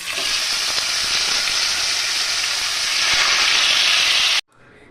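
Chicken for smoky dahi chicken sizzles steadily in hot oil in a pan: a loud, continuous frying hiss that holds evenly, swells slightly near the end, then cuts off abruptly.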